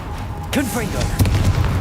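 A Confringo fire spell explodes in the video game Hogwarts Legacy, a short booming burst that follows a spoken incantation, over steady game background noise.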